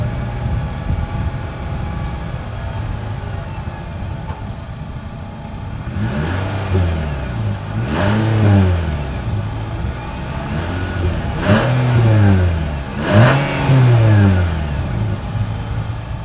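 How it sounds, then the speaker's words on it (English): A 2020 Nissan Sentra's exhaust idles, then revs sharply four times, each rev rising and falling back to a rumbling idle. "As always, here is that exhaust clip."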